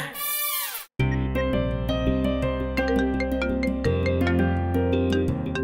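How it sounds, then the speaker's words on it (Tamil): After a brief swooping tone, a mobile phone rings loudly and steadily with a melodic, chiming ringtone that runs on without a pause. "வசு ஏன் திரும்ப திரும்ப ஃபோன் பண்ணிக்கிட்டே இருக்கா?"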